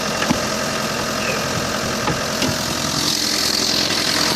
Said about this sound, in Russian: Стучат у нас гидрокомпенсаторы.